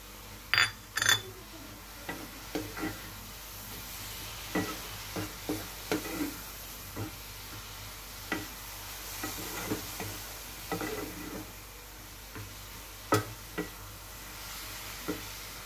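Carrot halwa stirred in a pan, a soft ongoing sizzle with a series of irregular clinks and scrapes of a spoon against the metal, close and fairly quiet.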